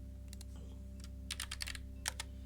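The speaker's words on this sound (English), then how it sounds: "Have you ever noticed you always press all the wrong keys?" Computer keyboard keys are tapped in short irregular clusters of crisp clicks, close and fairly quiet over a steady low electrical hum, with no talk.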